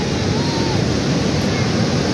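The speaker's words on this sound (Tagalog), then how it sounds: "Grabe yung alon, no?" Ocean surf rolling in at Tondaligan Beach in Dagupan, Pangasinan, a steady broadband wash of breaking waves with wind noise on the microphone, continuous and fairly loud with no pause.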